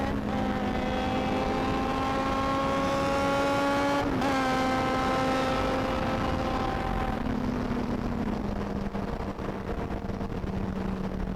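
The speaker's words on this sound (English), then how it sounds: "You're making too much of noise! What an exhaust!" A superbike exhaust revs hard and loud during a group Sunday ride, one sustained high engine note climbing and then settling over about eleven seconds, close and dominant with no talk.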